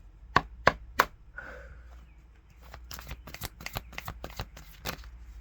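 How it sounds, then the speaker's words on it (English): A deck of playing cards is tapped and riffle-shuffled: three sharp taps, a brief pause, then a fast run of crisp clicking card flicks, close and clear with no talking. "going to give it one more shuffle and a tap."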